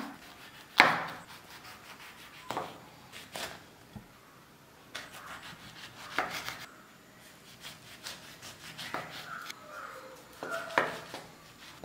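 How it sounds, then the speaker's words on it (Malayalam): A knife cuts the ends off lemons on a board in a few sharp, separated strokes, with soft handling and rubbing sounds between them, close and quiet. "നമുക്കിതൊന്ന് നുറുക്കിയെടുക്കാനായിട്ട് അത് രണ്ടറ്റം കളയാം"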